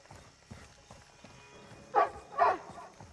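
Two sharp barks from a dog in the 2022 Call of Duty: Modern Warfare 2, in an Amsterdam setting, rising moderately loud over a low game ambience with short gaps between them.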